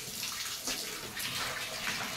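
Water splashes and sloshes steadily as food is rinsed by hand in a vessel of water, close and continuous, with no speech.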